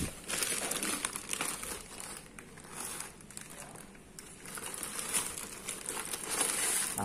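Packaging around a Phoenix Mini20 20-inch folding bike crinkles and rustles almost continuously as it is unboxed, close and fairly loud, with brief dips between bursts and no talk.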